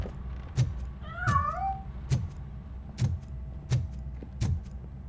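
A cat meows once in the video game RoboCop: Rogue City, a short rising-and-falling call near the middle, set against repeated sharp game thuds and a low ambient hum.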